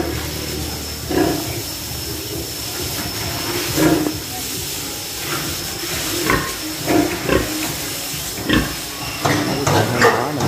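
A sow is moved into a farrowing pen on a Vietnamese pig farm. Short, irregular grunts and snorts come close by over a steady hissing barn background.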